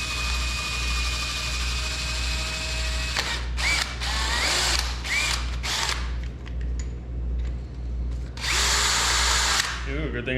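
A close, loud power drill bores bolt holes beneath the hood of a Jeep CJ2A, a long steady whine followed by several short stuttering bursts, a quiet pause and then one more strong burst.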